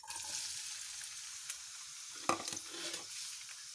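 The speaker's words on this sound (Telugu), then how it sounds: "ఇప్పుడు ఉల్లిపాయ ముక్కలు వేస్తున్నాను నూనెలోని" Onion pieces fry in hot oil for an egg and potato masala curry, a steady soft sizzle close by, broken midway by a sharp clack and a few brief stirring scrapes of a utensil in the pan.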